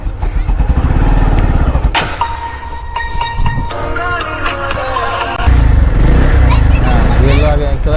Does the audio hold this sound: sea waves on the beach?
no